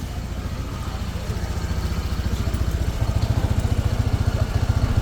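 Honda ADV160 scooter engine idling close by, a steady low rhythmic putter that grows slightly louder and more pulsed toward the end, with no one speaking.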